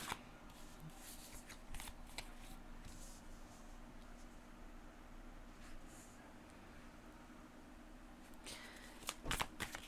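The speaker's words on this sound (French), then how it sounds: "On va sortir deux autres cartes" Oracle cards shuffled and drawn by hand, a long run of soft riffling and sliding, close and quiet, with a faint steady hum behind and a few sharper card snaps near the end.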